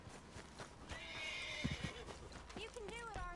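A horse whinnies loudly near the end, with hoofbeats clopping and a voice speaking over a busy background in the video game Red Dead Redemption 2.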